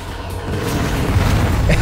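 A homing missile explodes in the video game Descent, a loud, dull boom rumbling through a short burst of game noise.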